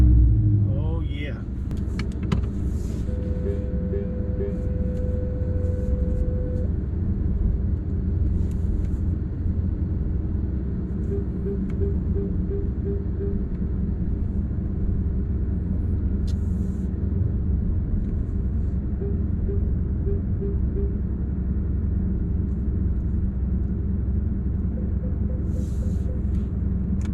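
A 2021 Porsche 718 Cayman S rolls along on a test drive, its engine and road rumble a steady loud drone inside the cabin, with occasional faint clicks and brief voices.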